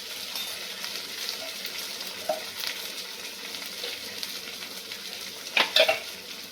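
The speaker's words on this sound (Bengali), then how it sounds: "মশলাটাকে ভালো করে কষে নেব" Ginger, salt and spices frying for a fish curry, a soft steady sizzle with occasional stirring scrapes and a couple of sharper utensil clinks near the end.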